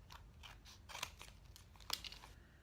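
Scissors trim the paper edges of an accordion book in soft, close snips and crunches, several quick cuts in a row with no voice.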